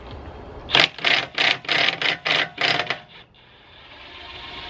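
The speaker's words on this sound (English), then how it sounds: "I actually find it safer to do it with an impact wrench" An impact wrench hammers loose a locking wheel bolt on a high-mileage BMW E46, firing six or seven loud, close rattling bursts in quick succession before falling silent.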